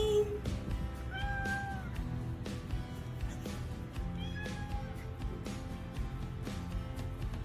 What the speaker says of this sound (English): When he first wakes up, he makes this funny, crunchy little meow as though his voice needs warming up